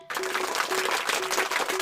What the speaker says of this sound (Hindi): प्रिंसिपल सर के लिए एक बार जोरदार तालियां हो जाए